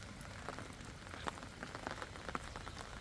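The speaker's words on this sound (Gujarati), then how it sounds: "અને ખરેખર આજ જોરદાર વરસાદ આવે ગો." Heavy rain pours down on the village of Simar, a dense, steady hiss with scattered sharper drop impacts throughout and no voices.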